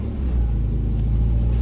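A Mazda Miata's engine runs cold before warming up, a steady low rumble close by, holding an even idle without revving.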